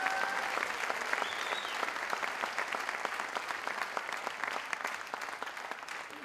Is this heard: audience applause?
yes